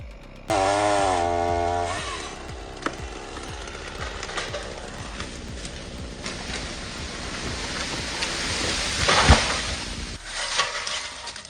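A chainsaw cutting a tree snarls loudly for a moment, then settles into a long, rough, noisy grind that swells near the end before cutting off.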